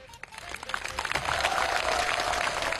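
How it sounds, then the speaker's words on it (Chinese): Audience applause at a military talent competition final, clapping that builds from scattered hands into a steady, full roar from a large crowd, with some background stage noise. "掌声送给雷以纯"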